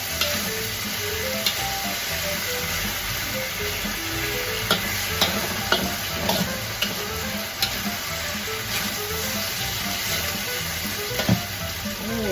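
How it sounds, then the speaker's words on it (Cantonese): Spring onions stir-fried in a wok for pineapple sweet and sour pork sizzle steadily and loudly up close, with scattered light scrapes and taps of the spatula over about twelve seconds and no talk. "啲葱落去炒勻佢香啲啦"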